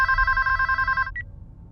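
Telephone bell ringing in a Scream 6 movie trailer, a rapid electronic trill lasting about a second, then a single short chirp before it stops.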